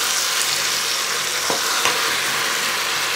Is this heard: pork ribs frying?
yes